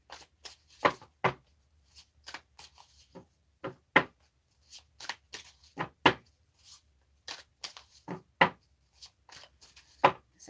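Cards from a meditation yoga book handled and shuffled at a tarot reading, heard as sparse, crisp slaps and riffles in uneven bursts close by, with quiet pauses between and no talking.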